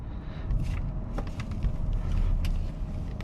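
Interior road noise from a 1998 Lexus GS300 driving on a sunny day in Turlock, California: a low, steady rumble with faint ticks and clicks scattered across it.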